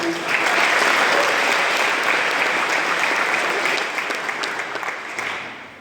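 An audience at a regional member network meeting applauds an award winner with loud, dense clapping that holds strong and then tapers off toward the end.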